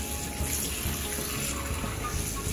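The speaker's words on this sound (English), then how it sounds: "So then lift it up and give it a good rinse. Get some water in there." Tap water runs steadily into a kitchen sink, rinsing a raw turkey, a close, constant splashing gush with slight changes as the bird is moved under the stream.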